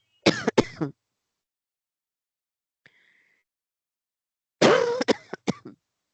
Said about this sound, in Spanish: por momentos tengo unos ataques de tos horribles